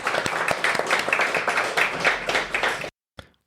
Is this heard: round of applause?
yes